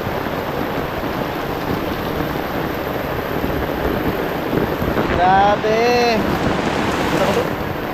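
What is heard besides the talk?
heavy rain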